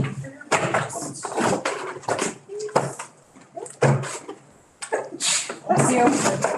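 A person sneezing during a vote-recount session for Supervisor District 5, one abrupt burst amid low voices, paper handling and small knocks in a quiet room.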